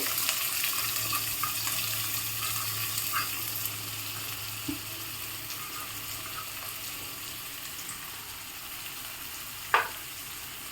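Finely chopped onion, added after tempering spices, sautés in a pan for a capsicum dish, a faint continuous hiss with a few isolated spatula clicks, one sharper knock near the end; no talking.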